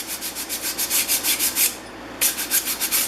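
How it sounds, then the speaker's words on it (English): A metal hand-plane frog being sanded with a flat 150-grit sanding block, heard as close, steady back-and-forth rubbing strokes in an even rhythm with a brief pause midway. "take my sanding block with 150 grit"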